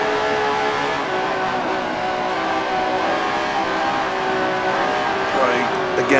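A race car in Grand Prix Legends on the Spa circuit drones at high revs, loud and steady throughout, with a brief shift in engine note near the end and a voice talking over it.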